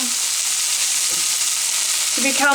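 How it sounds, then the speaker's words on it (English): Steady, bright sizzling of spring onions frying in a pan, an even hiss that holds throughout, with a brief clink near the end. "the spring onions have been frying for a good 2 minutes or so now"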